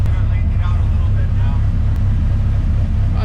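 The Rat10 car's engine idles roughly and loudly up close, a steady low rumble with uneven pulsing throughout, while a voice talks over it.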